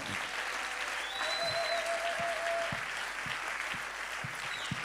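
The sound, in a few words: congregation applauding in church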